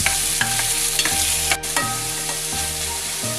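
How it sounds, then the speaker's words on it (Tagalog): Pork meat sautéing in a pan with ginger, onion and garlic: a loud sizzle with repeated scraping stirs at a steady, rhythmic pace and clanks of a utensil against the pan, with no talking. "After ko maggisa, ilalagay ko itong sahog na pork meat."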